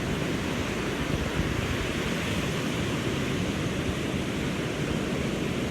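Strong waves crashing on an empty beach produce a continuous broad wash of surf, even and unbroken for the whole stretch, with light wind noise and no talking.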